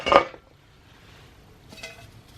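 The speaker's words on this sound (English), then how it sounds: "Taking my lid off." A lid comes off a container with a sharp clattering clink at the start, then quiet, followed by a fainter rattle near the end.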